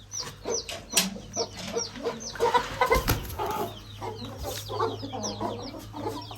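Hens cluck in short, agitated bursts and squawks, close by and overlapping, with a steady low hum underneath and a sharp loud flurry partway through as they scuffle.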